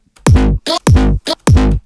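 A synth with an LFO modulating its drive, set to a soft aggression, plays loud, repeated short notes: three heavy, harmonically rich hits, each separated by a brighter, buzzier blip.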